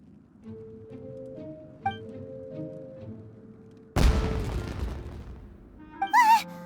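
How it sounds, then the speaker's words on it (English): In the video game Genshin Impact, a sudden fireworks blast bursts loudly after quiet musical tones, followed by a crackling, fizzing tail and a brief whistling shriek near the end. "Was that an explosion? It sounded like fireworks."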